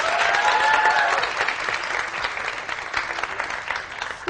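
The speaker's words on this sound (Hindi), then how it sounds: "अपने लिए और मेरे गेस्ट के लिए बहुत सारी तालियां।" Studio audience of a morning TV show applauding the host and guest, a full steady round of clapping with a brief tonal sound at the start, easing slightly toward the end.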